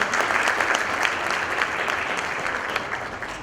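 Steady applause from an audience at a teen hero award event, dense and continuous throughout with no pauses.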